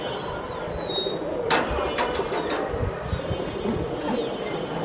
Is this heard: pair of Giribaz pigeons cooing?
yes